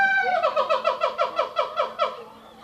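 Siamang apes calling at San Diego Zoo, a loud, close series of about ten rhythmic, rising hooting whoops in steady pulses that fade out at the end.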